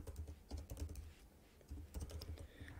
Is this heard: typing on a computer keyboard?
yes